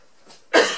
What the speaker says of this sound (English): Excuse me, I get a cough.